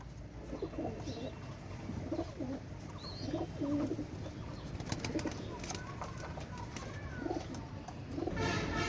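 Pakistani pigeons coo softly in a loft, several low, rolling calls repeating over steady background noise, with occasional wing flutters and no talk.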